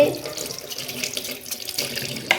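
Tap water runs steadily into a sink during washing up, a close, even splashing flow that continues without pause.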